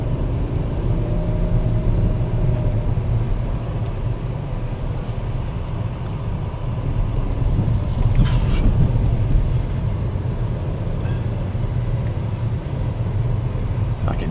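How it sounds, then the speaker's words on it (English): Petrol car driving along a rocky road, a steady close engine and road rumble throughout with occasional brief rattles, under intermittent talk. "I haven't driven a petrol car for a lot of years, and this one goes like the stink."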